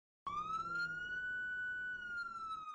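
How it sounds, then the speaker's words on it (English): A police siren wails in a steady rising-and-holding tone, loud and close, starting abruptly and continuing throughout with no voices. "Guys, I think I heard an ambulance siren."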